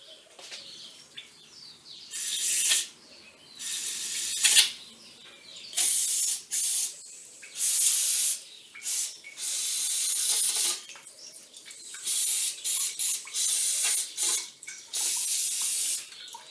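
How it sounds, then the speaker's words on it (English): Brake cleaner sprayed into a milling machine gearbox: repeated loud hissing aerosol bursts of a second or two each, broken by short pauses, close and with no talking. "I'm just going to clean out the whole thing with brake cleaner"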